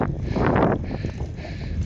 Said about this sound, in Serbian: Malo vetar duva, inače bi brže došao.